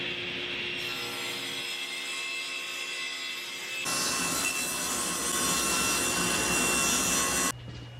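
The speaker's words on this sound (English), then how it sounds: "running long stock through the table saw" Table saw ripping long wooden stock for a farmhouse table, with a steady motor whine that turns louder and rougher as the blade cuts the board for several seconds, then drops back when the cut ends.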